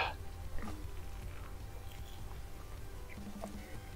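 A Culver's CurderBurger with cheese curds is bitten and chewed, giving soft, quiet crunching and mouth sounds close up, with no talking.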